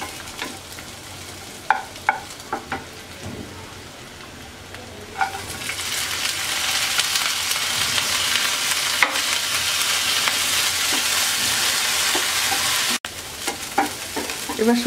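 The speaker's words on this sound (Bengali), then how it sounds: "এবার শুটকিগুলোকে আমরা 2-3 মিনিট ভেজে নেব।" Dried shrimp fry in mustard oil in a pan. A few scattered stirring clicks come first, then a loud, dense sizzle swells and holds steady for several seconds before the scraping and tapping return.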